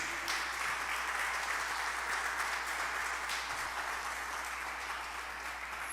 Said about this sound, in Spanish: ¿Cuánto le puede dar un fuerte aplauso a Jesús?